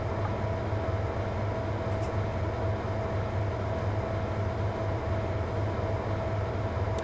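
A BR Class 55 Deltic diesel locomotive in a train simulator runs steadily on a downward grade hauling Mark 1 coaches, with a constant low engine drone and a sustained tone throughout, no talk.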